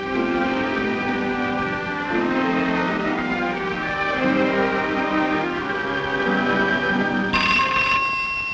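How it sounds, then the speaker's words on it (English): A telephone bell rings on and on, its bright metallic tone sustained over a bed of held musical notes, growing sharper near the end. "Telephone ringing in the night."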